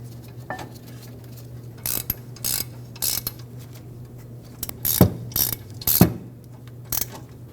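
Brake caliper bracket bolts on a Mercedes-Benz GLC300 are run in with a ratchet, giving sharp metallic clicking bursts in uneven groups, close and clear in an otherwise quiet workshop.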